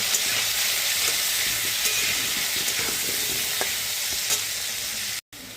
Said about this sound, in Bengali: এখন কড়াইতে তেল গরম করে কেটে রাখা আলুগুলোকে হলুদ আর লবণ দিয়ে লাল করে ভেজে নেব।